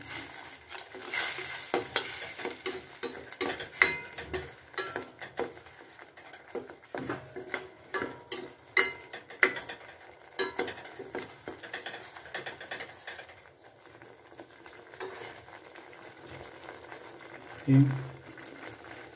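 Chilli, salt and turmeric masala stirred in a pan, with rapid rhythmic scraping and clattering strokes over a light sizzle, a brief louder knock near the end.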